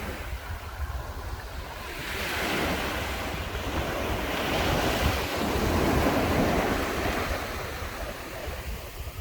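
Ocean surf on a Zanzibar beach, a steady broad wash of breaking waves swelling and easing with heavy wind rumble over the microphone, continuous and loud, no voices.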